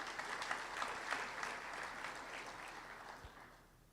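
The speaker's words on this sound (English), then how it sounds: "Can we give a round of applause to Mpemba for that?" Steady applause from an audience at a mayoral matric excellence awards ceremony held at a TVET college, a dense patter of many hands clapping that holds level and then gradually fades toward the end.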